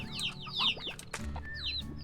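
Chickens of several different breeds, chicks among them, cluck and chirp in a dense overlapping chorus on a farm in the video game Slime Rancher, with a low steady hum running underneath.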